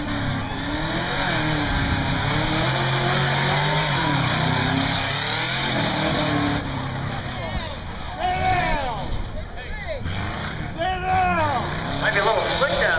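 A 1985 Subaru four-wheel-drive tough truck races at Buck Motorsports Park, its engine roaring and revving as it accelerates, with a loud announcer talking over the noise throughout.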